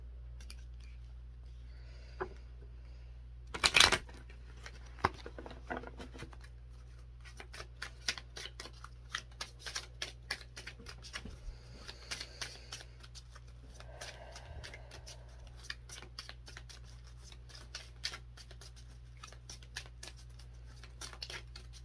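Soft rapid tarot card shuffling, a long run of light riffling clicks and flutters with a sharp snap near the start, close and quiet with no talking.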